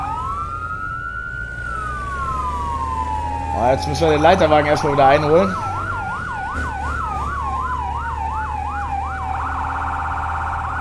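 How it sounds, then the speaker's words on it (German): Wailing fire truck siren in the Firefighting Simulator game, sweeping steadily up and down then switching to a faster yelp, with a short burst of horn-like tones midway and a voice talking over it. "Blaulicht und Martinshorn."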